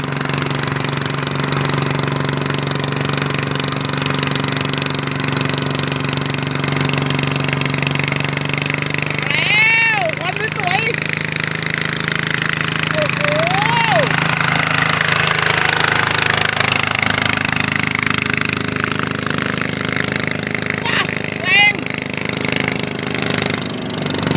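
The engine of a small Thai farm vehicle revs hard and loud up close, a rough, knocking drone that holds high throughout. Faint whistling tones rise and fall over it midway.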